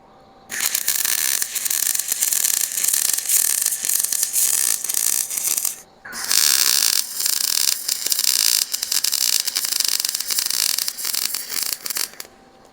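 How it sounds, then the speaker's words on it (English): Angle grinder grinding weld beads off a homemade welded steel table, a loud harsh continuous whine that runs for about five seconds, cuts out briefly, then resumes for another six seconds. "I'm mostly going to grind off some of the little beads and shit that flow around everywhere."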